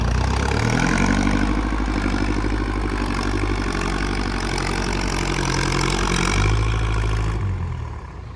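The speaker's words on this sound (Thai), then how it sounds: "เสียงรถไถดังครับ" A Kubota L5018 tractor engine runs loudly and steadily nearby while grading a damaged dirt road, with a deep, throbbing rumble that eases off slightly at the end.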